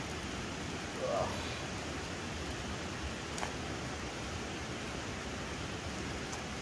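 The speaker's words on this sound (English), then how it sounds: "It's actually raining a little bit." Light rain falls outdoors at a trailside lunch stop, a steady soft wash of hiss with occasional faint drips and rustles, fairly even throughout and without any voices.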